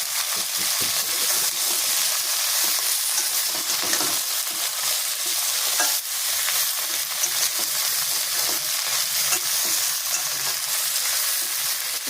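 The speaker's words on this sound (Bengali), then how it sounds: "এই যে অনেক ভাজা ভাজা হয়ে গেছে।" Moringa drumsticks and tomato sizzle in a frying pan, a continuous close hiss with small pops and crackles scattered through it, no talking over it.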